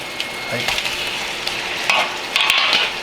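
Chicken thigh sizzles and bubbles steadily in boiling miso sauce in a hot pan, with brief stirring scrapes and louder hissing bursts near the end.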